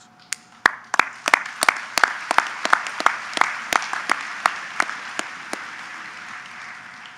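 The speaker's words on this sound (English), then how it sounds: "Round of applause." A graduation commencement audience applauds, with a scattered mix of individual hand claps rising into a dense ongoing ovation that slowly thins as it continues, heard in a large hall.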